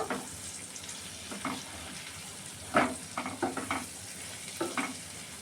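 Fish frying with turmeric and a coriander-cumin powder mix is stirred in a pan, with a faint sizzle under a few soft, irregular scraping strokes that come in small clusters.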